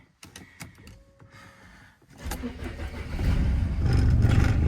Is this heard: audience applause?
no